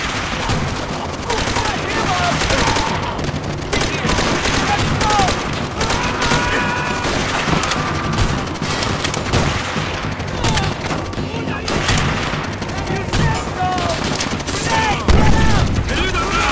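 Sustained machine gun fire rattles through a World War II battle in Call of Duty: World at War, loud and continuous, with explosions and shouting soldiers mixed into the chaotic din.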